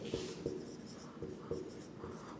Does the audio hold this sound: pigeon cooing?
no